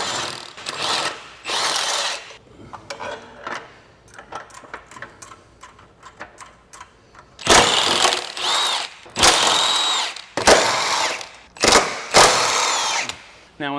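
A power tool runs bolts into the subframe of a 2019–2025 Honda Passport during a lift install. Softer ratcheting and clinks under a talking voice come first, then five or six loud, close bursts of tool whirring separated by short pauses.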